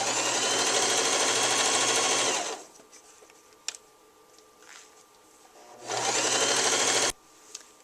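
A sewing machine backstitching a pillowcase seam: two loud, fast, steady whirring runs of stitching close by, separated by a quiet pause with small clicks, no talk.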